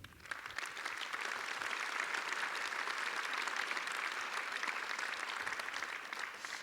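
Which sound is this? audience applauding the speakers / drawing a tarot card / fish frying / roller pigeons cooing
audience applauding the speakers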